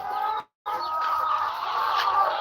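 Chickens cluck outside on a farm in Aklan, a cluster of overlapping, fairly close clucks and calls with one brief silent gap, and no talking.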